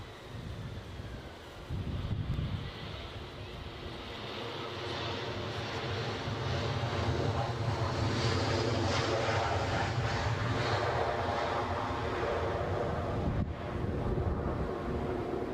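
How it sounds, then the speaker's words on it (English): Incoming easyJet airliner from Bristol landing at a windy Edinburgh airport, its jet roar building from a distant rumble to a sustained loud whine, mixed with heavy wind buffeting on the microphone. "Incoming easyJet from Bristol."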